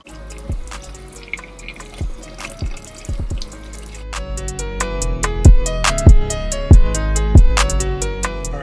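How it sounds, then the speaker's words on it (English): Cold water from a tap runs and splashes onto suede Chanel sneakers in a sink, with a steady trickle punctuated by loud, distinct drips and plops that grow heavier and more rhythmic toward the end. "I'm going to completely wet the suede with some cold water."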